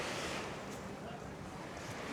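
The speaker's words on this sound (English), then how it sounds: "We've got the sound of the waves on the sea." Gentle sea waves washing onto the shore at Palmanova, Mallorca, on an evening with a light breeze: a steady, soft broadband wash heard from nearby with a little wind noise.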